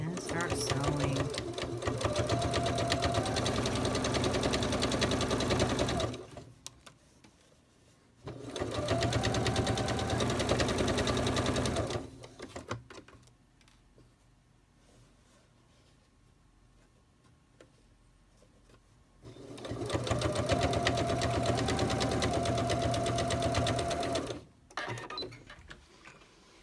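A sewing machine with a quarter-inch foot stitches quilt blocks in fast, even mechanical bursts of several seconds each. The bursts are split by quiet pauses, and the machine sounds close and loud.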